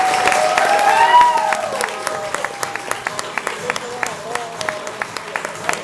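Audience applause for comedian Jeff Tyson at a comedy club showcase, a full burst of clapping that starts loud and thins into scattered claps, with a voice faintly audible over it.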